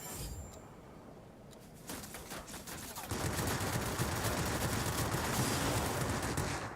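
Tail gunners on enemy aircraft hammer away with machine guns in a Yak 30 combat flight game, sparse bursts giving way to a loud, continuous rattling fusillade that fills the second half.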